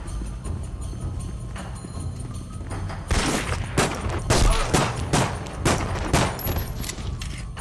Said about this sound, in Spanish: Demasiados tiros.